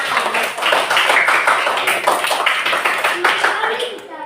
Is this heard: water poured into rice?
no